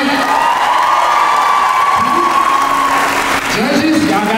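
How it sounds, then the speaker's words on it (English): An audience at a Baylor University homecoming stroll-off applauds and cheers, with sustained loud clapping and whoops from a large crowd, while a voice talks over the noise. "Please give everybody a round of applause for performing tonight."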